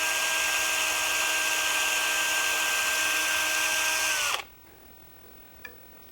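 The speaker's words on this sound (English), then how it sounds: "Drill a screw hole at each marked position." Power drill boring screw holes for the spikes of a manual rotary paddy weeder, a loud steady whine that holds for about four seconds and then cuts off, followed by a small knock.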